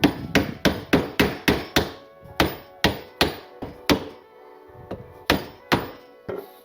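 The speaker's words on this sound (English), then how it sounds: "I'm going to move maybe a 1/16 of an inch, 1/8 of an inch off of our line and chop this off." A chisel chopping partway through a board on a beginner woodworking project with budget Harbor Freight tools: about fifteen sharp, loud thunks from mallet blows, fast at first, then more spaced out, each with a brief woody ring.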